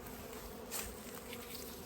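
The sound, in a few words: honey bees buzzing around a hive entrance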